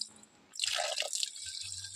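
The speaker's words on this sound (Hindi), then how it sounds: "तो यहाँ पर से जरा पानी भरते हैं" Cold spring water pours from a natural mountain spring into a bottle, a sudden close, bright splashing rush starting midway after a quiet trickle and continuing steadily to the end.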